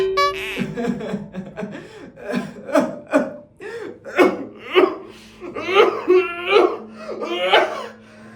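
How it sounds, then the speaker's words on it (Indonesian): An elderly person coughs repeatedly in a rough, rhythmic series of short hacking bursts, close by, with some breathy, laugh-like sounds mixed in. "Nenek hanya batuk sedikit."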